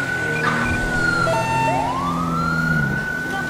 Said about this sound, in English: this is a non-ELS vehicle, so all I can do is the main siren